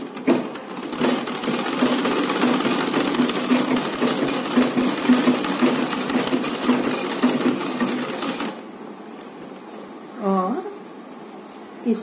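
A sewing machine stitches a folded three-inch fabric strip for a lehariya scarf, running in a fast, steady, close chatter for about eight seconds before stopping, followed by someone speaking.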